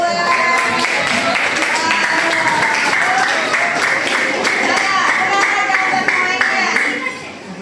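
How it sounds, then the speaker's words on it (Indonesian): Classroom of students clapping for a quiz group in an Islamic lesson, loud, close and rapid clapping mixed with voices and chatter, tapering off at the end. "tepuk tangan dong buat kelompok 2"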